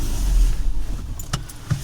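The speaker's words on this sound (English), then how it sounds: "You can just switch the car off." A car is switched off at the end of a driving test: the engine hum fades under a steady low rumble, then a few sharp key jangles and clicks come up close.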